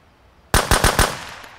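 HK416 assault rifle fire in a video game: a short loud burst of about four rapid shots breaking sharply out of near silence, close and alone.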